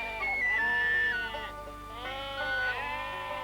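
Sheep in the Canterbury pastures bleat in two long, wavering calls close by, with a faint steady background hum and no talking.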